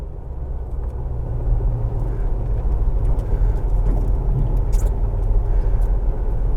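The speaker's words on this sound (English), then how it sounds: "it'll probably downshift here in a moment just because we are slowing down a lot" Jeep Wrangler TJ with 4.88 gears and 32-inch tires slowing into a 15 mph zone, a loud steady low engine rumble and road noise heard from inside the cab as it eases down and downshifts.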